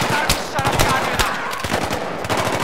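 Rapid machine gun fire in Battlefield 3 combat, loud close bursts of repeated shots in quick succession over a dense noisy battlefield background.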